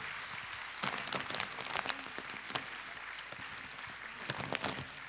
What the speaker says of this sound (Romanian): Aplauze bine meritate